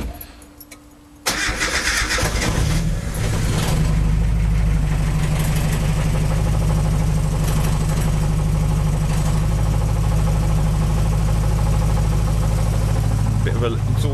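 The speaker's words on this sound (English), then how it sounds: "Probably expect a bit of a bit backfire the first time because it's been a little while, and this is a cold start." A turbocharged Mazda MX5 cranks and fires on a cold start, then settles into a loud, steady idle with a deep rumble and a hint of exhaust leak throughout.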